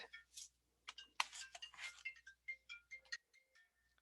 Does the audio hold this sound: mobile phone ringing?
yes